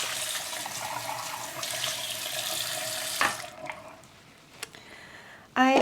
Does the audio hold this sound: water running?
yes